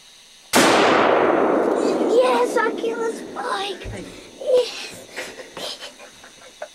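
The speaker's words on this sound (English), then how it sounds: "November the 6th, Isaac just shot his first buck." A rifle fires one sharp, loud shot while deer hunting in the woods, and its echo trails off. Afterward people talk and react excitedly close by.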